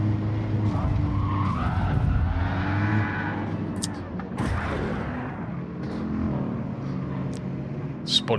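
A race car spins out in a racing video game, tires skidding and engines revving in a loud, continuous blur of motor noise, with a commentator talking over it.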